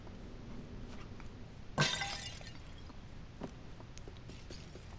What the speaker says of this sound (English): I feel like I'm just smashing shit in her house.